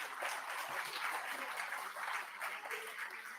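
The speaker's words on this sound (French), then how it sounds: "je vous demande de l'applaudir très très fort." A crowd applauds at a political party gala dinner with continuous, fairly distant clapping and a murmur of voices throughout.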